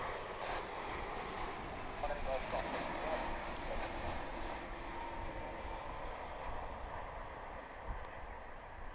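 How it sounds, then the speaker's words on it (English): An American Airlines jet arriving from Tokyo Narita at a large international airport rumbles as a steady, distant engine roar that holds evenly throughout, with voices talking faintly underneath. "American Flight 60 coming in from Narita in Tokyo"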